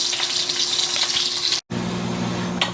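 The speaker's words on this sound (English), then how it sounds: "we're going to dump the V8 juice and the water over top of the meat" V8 juice and water poured from containers over pot roast meat in a pot, a steady close splashing rush that breaks off briefly, then gives way to a lower bubbling pour.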